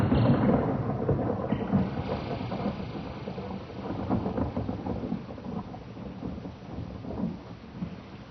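In an audio drama, thunder rumbles over steady rain, with a deep roll that swells and fades as the constant patter of rain continues throughout.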